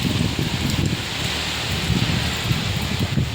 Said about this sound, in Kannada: ಮಳೆ ಅಂತೂ ಫುಲ್ ಜೋರು ಬರ್ತಿದೆ